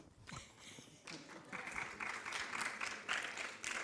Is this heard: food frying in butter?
no